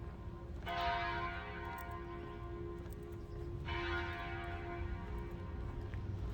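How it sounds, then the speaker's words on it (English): A church bell near downtown Phoenix rings out twice, several seconds apart, each strike leaving a long ringing hum that slowly fades against quiet street ambience. "Let's go get this bell"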